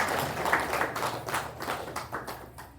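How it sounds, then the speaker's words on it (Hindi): A seated audience at a spiritual gathering in Mahagama, Jharkhand claps in a loose, uneven patter, individual claps audible as the applause thins out over a few seconds, fairly quiet. "इसलिए उनके ताली बजाओ"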